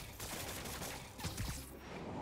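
Dense bursts of gunfire in Marvel's Spider-Man Remastered video game, rapid overlapping shots fired at the player amid loud, noisy city combat, with no talking.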